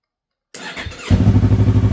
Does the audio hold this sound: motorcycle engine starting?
yes